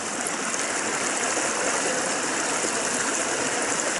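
The Mississippi River headwaters at Lake Itasca, Minnesota, rush over rocks in a loud, continuous, close-up roar of flowing water, with no talk.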